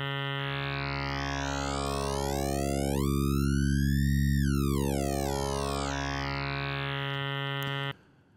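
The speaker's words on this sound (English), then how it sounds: "formant spread splits the formants and sends them in opposite directions." GrainFormant synth oscillator with formant spread, a sustained buzzy tone whose formant peaks sweep apart in opposite directions and rejoin, steady and loud for about eight seconds before cutting off.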